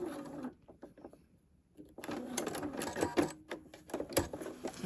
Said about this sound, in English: And I'm going to back stitch a little bit.